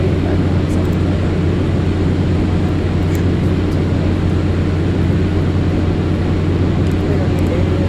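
A Cessna 208 Caravan turboprop drones steadily in flight in the X-Plane 11 simulator, a loud constant low hum and whine holding level throughout with no break.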